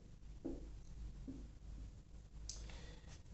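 A pen writes the letters AB on paper beside a freehand geometry figure: a few soft, quiet scratching strokes in a calm room with faint background hum.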